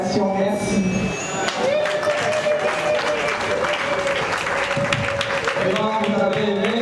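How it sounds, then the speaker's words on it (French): Audience applause at a memorial tribute for Maman Elisabeth Kasongo, a steady wash of many hands clapping in a hall, with a voice speaking over it at the start and end. "je vous demanderai encore une fois d'applaudir"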